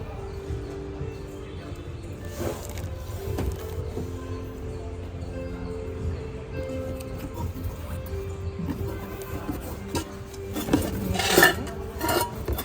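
Green Chef cookware, including a pressure cooker, being unpacked and handled at a busy exhibition hall, with scattered metallic clinks and rattles over a steady crowd murmur and a louder clatter near the end.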